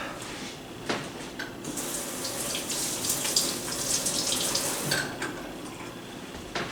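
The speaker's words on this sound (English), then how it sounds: "Had to wash some of that grease off of my fingers" Tap water runs into a sink as someone washes grease off their fingers while baking. It is a steady, close splashing flow with a few brief louder spatters as hands move under the stream.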